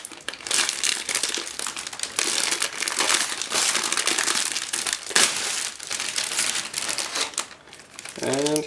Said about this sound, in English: give me a second to open this plastic bag